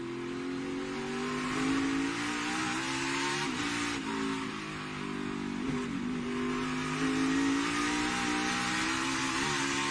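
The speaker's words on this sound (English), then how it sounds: "as we're listening to Chase Elliott and the way he works his way around this racetrack" A NASCAR race car engine revs loud and steady for the whole stretch as it works around the racetrack, its strong buzzing drone rising and falling slightly with each change in throttle, with no voices over it.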